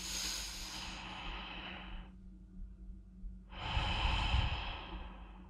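Slow, deep yoga breathing: a long airy inhale, a pause of near silence, then a full audible exhale, close and alone.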